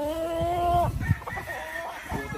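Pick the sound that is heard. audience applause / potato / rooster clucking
rooster clucking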